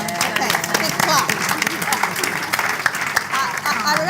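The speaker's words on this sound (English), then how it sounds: "big clap" An audience claps steadily throughout at a talk on female power, with a voice speaking over the applause.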